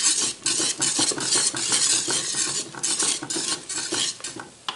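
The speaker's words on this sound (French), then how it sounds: "Et on mélange pour essayer de faire des grumeaux." Close, rhythmic stirring of milk into a thick mac and cheese base in a Cookeo pressure cooker. A spoon scrapes and clinks against the pot in quick repeated strokes over a soft sizzle.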